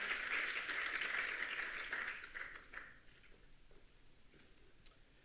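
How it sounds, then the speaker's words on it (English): An audience at an international conference on age-friendly cities applauds, and the clapping fades away over about three seconds. Faint room sounds and a few scattered ticks follow. "Some more applause? Yes, more applause."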